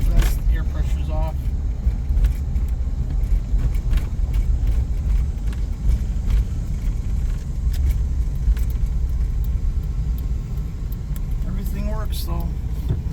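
A 1998 GMC Safari van on the road, a steady low engine and road rumble heard from inside the cabin with faint rattles, under occasional talk.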